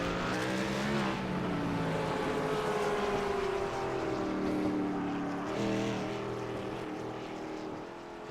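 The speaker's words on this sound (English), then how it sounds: "going to try to catch the iRacing.com official RUF pace car" Official RUF pace car from the iRacing sim, its engine droning loud and steady throughout with shifting harmonic tones as revs rise and fall, close and continuous with no talk.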